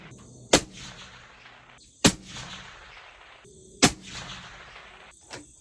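Three sharp, loud rifle shots from a SIG Cross spaced evenly about a second and a half apart, each followed by a rolling outdoor echo, with a fainter fourth crack at the end.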